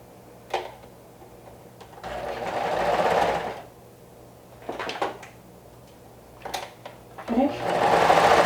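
A sewing machine stitching a 1/4 inch seam in fabric folded right sides together, running in several short bursts of whirring with pauses, clicks and handling noises between, close and fairly loud.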